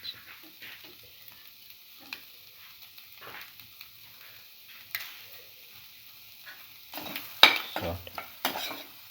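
Spring onions, egg and black pepper are stir-fried in a pan with a faint, soft sizzle, broken by intermittent scrapes and clinks of a utensil against the pan that grow louder toward the end.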